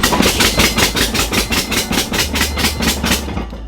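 A Honda B20-swapped EK Civic engine runs rough just after its first start, a loud close rhythmic chugging pulse of about four beats per second with a harsh rattling edge, steady for several seconds with no talking.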